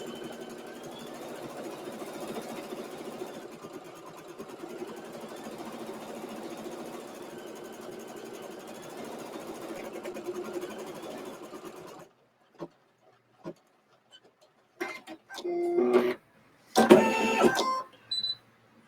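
An embroidery machine stitches steadily on fabric scraps for about twelve seconds, a close, even whirring drone, then stops, followed by a few short bursts of clicks and handling noises.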